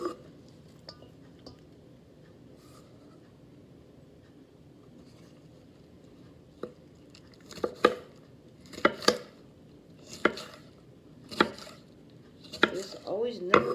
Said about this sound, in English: after we get done chopping our vegetables